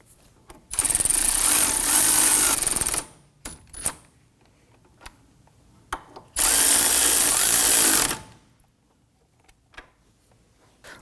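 A power tool snugs down the front brake bolts on a 2015-2024 Nissan Murano in two loud, sustained whirring runs of a couple of seconds each, separated by faint clicks and handling noises.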